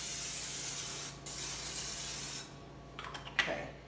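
Cooking spray hisses onto a Ninja Foodi Deluxe pot in a long close burst that cuts off, followed by a few faint clicks and light knocks.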